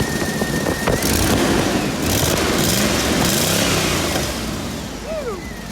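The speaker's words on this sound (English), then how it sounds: "She's definitely leaking from the exhaust manifold." A 1999 Chevy K1500 pickup's 5.7 Vortec V8 idling with a leaking exhaust manifold, a steady close engine rumble with noisy ticking texture throughout, plus brief outdoor noises and a faint whistle-like chirp near the end.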